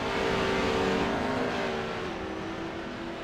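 Pro 2 Lites race trucks roar past at Wild West, a loud continuous engine drone that stays strong and slowly eases off over a few seconds.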